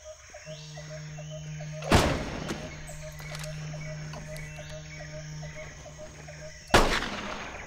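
Two loud, sharp gunshots with booming tails sound in Carnivores Fallen Kings, several seconds apart, over steady game ambience and a low hum.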